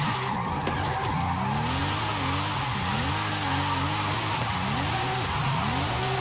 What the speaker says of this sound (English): I'm trying to drift a 1100 horsepower car. Rear-wheel drive car.